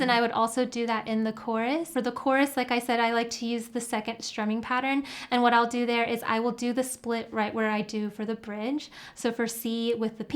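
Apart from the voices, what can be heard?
No distinct noise like a dog, phone or traffic.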